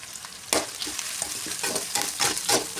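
Onions and curry leaves sautéing in a pan give off a steady close sizzle, broken by scraping stir strokes at an uneven rhythm, with no talking.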